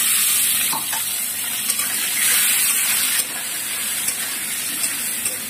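Potatoes tipped into a pan of frying onions set off a loud, steady sizzle that holds for several seconds, with faint stirring clicks over the hiss.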